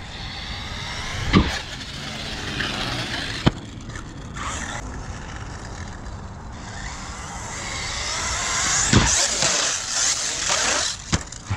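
An Arrma Typhon RC car running on a 6S battery buzzes and whines at speed outdoors, its motor surging and fading with scrapes and bumps over several seconds.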